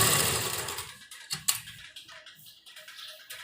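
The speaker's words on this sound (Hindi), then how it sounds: "इस तरह से हम अपनी जो लास्टिक की सिलाई है वो लगानी है।" A sewing machine stitches elastic onto the fabric of a baby combination suit, a fast mechanical whirring that fades into a few separate clicks and taps, close and fairly quiet.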